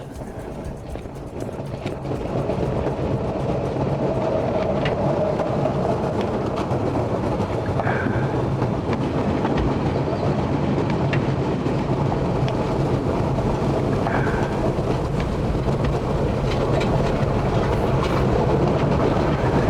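A train rumbles continuously and loudly in the Splinter Cell: Double Agent money train level in New York City, a dense steady roar with faint rhythmic clatter and occasional high squeals, no voices.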